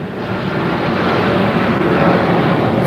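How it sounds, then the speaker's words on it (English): A fixed-wing airplane passes overhead as a steady, loud broadband roar that holds level for the whole stretch, with no talking over it. "sorry about the airplane."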